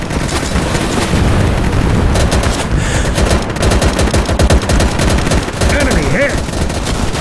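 Dense, loud WW2 battle gunfire from the shooter game Easy Red 2: continuous machine-gun bursts and rifle shots overlap with booming impacts in a constant roar, with no pauses.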